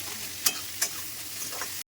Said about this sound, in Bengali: দিয়ে দিচ্ছি গোটা গরম মশলা আর 2টো তেজপাতা।